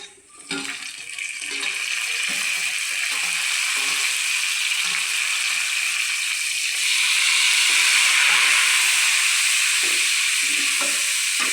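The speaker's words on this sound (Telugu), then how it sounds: "అది టమాటా గ్రేవీ అంతా కొంచెం ఫ్రై అవ్వాలి" Tomato gravy for cabbage fried rice sizzles and fries steadily in a pan, a loud close hiss that runs continuously and grows slightly stronger partway through, with no voices.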